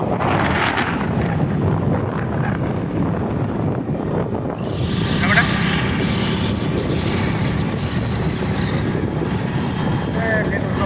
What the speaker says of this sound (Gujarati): મસ્ત ઠંડો પવન વાય છે